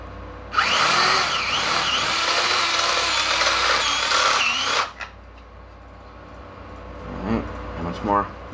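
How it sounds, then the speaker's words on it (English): A power drill whines loudly and continuously for several seconds drilling through tile, then cuts off, leaving quieter background with a few faint clicks. "Alright, last drill."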